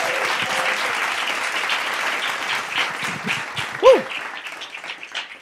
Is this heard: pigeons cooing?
no